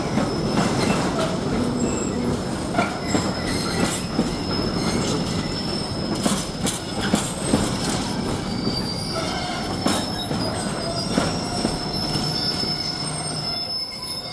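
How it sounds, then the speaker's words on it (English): Great Northern train moving through Ely station, wheels squealing and clickety-clack joints under a steady rolling rumble, loud and near, with no voices. "The other train, which looks like Thameslink, but the Great Northern train, is started here."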